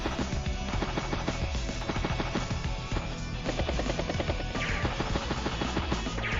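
Rapid machine gun fire hitting a battlecopter in the video game Advance Wars: Days of Ruin, a dense, loud burst of repeated gunshots layered with rotor-like thumping and game effects.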